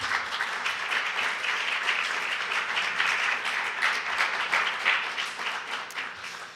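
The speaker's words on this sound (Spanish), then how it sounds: "Un aplauso de bienvenida, por favor." A conference audience at the closing session of a Peruvian international congress gives welcoming applause, a loud, dense and continuous clatter of many hands that holds steady for several seconds.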